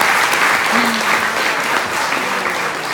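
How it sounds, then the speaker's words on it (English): Loud, sustained audience applause fills a university hall during a hypnotist show, dense clapping running evenly from start to finish with a faint voice briefly rising within it. "give them another big round of applause"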